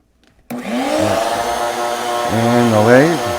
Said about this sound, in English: the vacuum is going to get turned on here